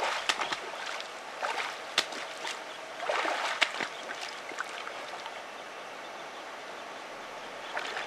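A person imitating a cow moose walking in shallow water, lifting a foot forward and plopping it back down, producing a few close splashy steps in the first half before quieter water.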